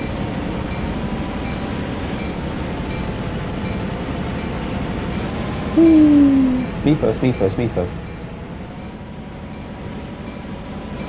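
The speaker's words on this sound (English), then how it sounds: "I love being at a station when a freight train runs past." In Train Sim World 2, a Canadian National freight train rumbles past a station between Aldershot and Oakville with a steady low drone, while a loud horn blast and a string of bell-like tones sound midway and a voice talks over it.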